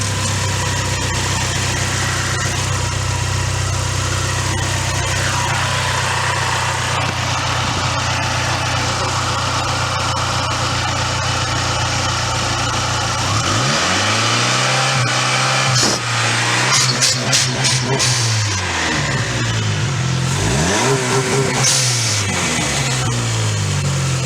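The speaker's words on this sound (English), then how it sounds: "Dan insists to do a little startup and a quick little rev with the blow off." A PT Cruiser GT with a cold engine and 190,000 miles starts up and settles into a steady idle, then revs sharply a couple of times with rising and falling engine pitch and blow-off valve bursts.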